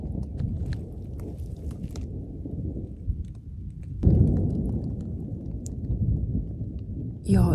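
Thunder rumbles along the Continental Divide Trail in a long, unbroken low roll that grows heavier halfway through, with a brief close rustle at the end.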